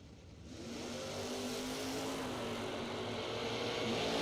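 At a drag strip, a Cuda drag racing car's engine roars loud and close. The driver works the throttle pedal, and the sound swells into a sustained, steady revving drone with no talk over it.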